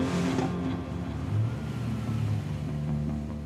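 A car fitted with a roll cage drives up a giant seesaw-style bridge, its engine a steady close rumble with mild revving throughout.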